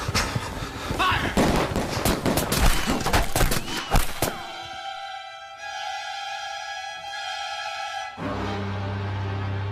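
A firing squad's rifles crack in a rapid, dense burst of shots for about four seconds before fading into sustained musical tones.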